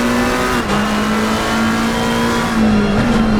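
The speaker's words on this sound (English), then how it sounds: "Huge pack of cars." A pack of GT3 race cars at Imola in a sim racing game drones loudly, one steady engine note holding and shifting slightly as the cars run together, continuous with no talk.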